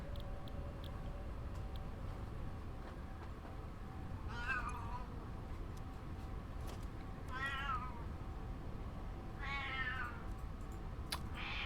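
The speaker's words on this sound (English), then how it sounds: "What are you saying, cat?" Three faint meows from a cat come at separate moments, each a short rising-falling cry, over a quiet low hum.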